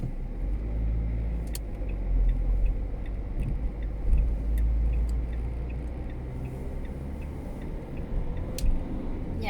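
A car pulls away and drives along a road after the light turns green, a steady low engine and tire rumble heard from inside with faint ticking on top.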